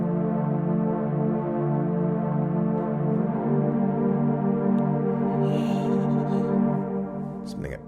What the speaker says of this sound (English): add some sort of kind of synth on top of that.